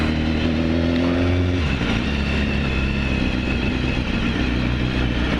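A 2015 BMW S1000RR sport motorcycle being ridden, its engine droning loud and steady under heavy wind rush, with the pitch dropping once as it shifts gear, then holding a constant rumble.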